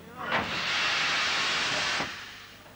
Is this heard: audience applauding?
no